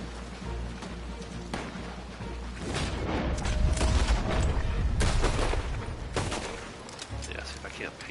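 Gunfire from a Red Dead Online shootout, sharp shots cracking out repeatedly over steady rumbling game ambience, with people talking throughout.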